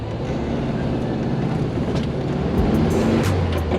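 A classic VW Beetle brakes to a stop, heard as a dense, continuous rumble of road and mechanical noise that swells slightly toward the end, with no voices.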